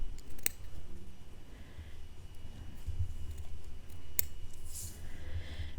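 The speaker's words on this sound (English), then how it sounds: "So again, we're going to cut it away." Scissors cut through felt pieces for a Christmas stocking, giving a few faint, sparse snips against a steady low background rumble.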